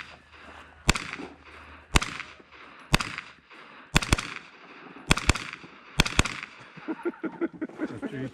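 Pistol-caliber carbine fire at an IPSC Canada PCC nationals match: loud sharp shots in pairs about once a second, close range, followed by a faster string of quieter shots at the end.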